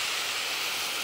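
Hot water pours onto fried vermicelli and rice in a pot, a brief, steady, faint hissing rush with no voices.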